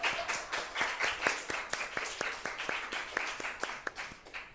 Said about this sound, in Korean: 우리 한번 박수 쳐주세요.